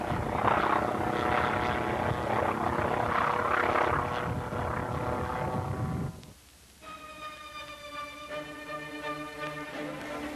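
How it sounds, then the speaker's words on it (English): At a 1984 Scale Masters contest, a full-size T-28 aircraft makes wing-rocking passes, its propeller engine droning loudly overhead before fading to a thinner, distant hum. "a full-size T-28 made a couple of wing-rocking passes"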